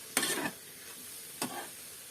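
Tomato and masala frying in a pan for egg biriyani, heard as two short bursts of stirring and sizzle, the first stronger, separated by a quiet pause with no voices.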